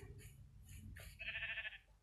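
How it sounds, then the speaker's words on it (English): Minecraft sheep bleating in a small enclosure, a few short quiet bleats in succession ending in one longer wavering bleat, faint and alone. "Come over here, you crazy sheep."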